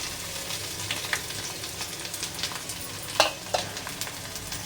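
Garlic sizzling in hot oil in a kadhai while a traditional dill and fenugreek mixed vegetable dish is cooked, a steady crackling fry with a few louder pops and stirring scrapes, no voices.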